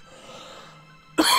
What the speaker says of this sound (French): je vais tousser un petit peu dans cette vidéo